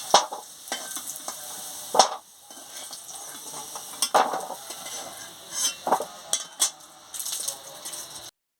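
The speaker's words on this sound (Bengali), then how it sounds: "আলু ভাজা হয়ে গেছে, আমি এবারে তুলে নেব।" Fried potatoes are lifted out of a pan with a spatula over a soft background sizzle, with sharp metallic scrapes and clinks at irregular intervals, close and moderately loud.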